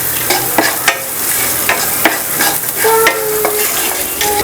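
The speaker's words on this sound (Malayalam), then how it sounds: "ഇതിലേക്ക് ഞാൻ കുറച്ച് മഞ്ഞൾപ്പൊടി ചേർത്ത് കൊടുക്കുന്നുണ്ട്. നന്നായിട്ടൊന്ന് മിക്സ് ചെയ്തെടുക്കാം" A spoon scrapes and clinks while stirring poha upma with turmeric powder in a hot pan, giving loud, irregular strokes over a continuous close sizzle, with no talk.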